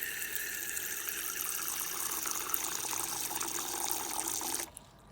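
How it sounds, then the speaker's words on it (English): Water poured into a tarantula's water bowl, a steady splashing trickle that runs continuously and then stops abruptly near the end, close and moderately loud with no talking. "Put some water in there."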